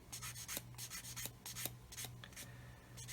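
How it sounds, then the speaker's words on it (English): A 400-grade sanding stick rubs back and forth over a mould seam on a Meng 1/35 scale plastic model kit, giving close, steady rasping strokes in a quick repeated rhythm with a low hum underneath. "I'm going to take my Matador stick, it's a 400 grade, I'm just going to sand that away"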